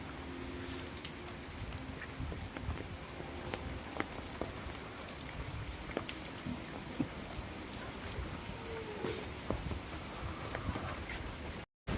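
Heavy rain from Cyclone Dana falls steadily beside a brimming village pond, a soft, even hiss with scattered drop patter that runs unbroken and cuts off abruptly at the very end; no voices.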